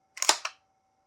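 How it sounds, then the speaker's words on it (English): A magazine snapping into a VFC SCAR airsoft rifle, a brief, close cluster of sharp plastic-and-metal clicks in an otherwise quiet room. "Kind of throw a mag in there."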